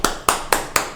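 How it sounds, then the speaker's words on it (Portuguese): A few people clap for an employee in a short run of five even, moderately loud hand claps about a quarter second apart, close by and with no voices over them. "Então eu queria que palmas para esse cara"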